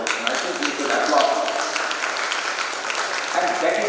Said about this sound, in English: And I think we should applaud.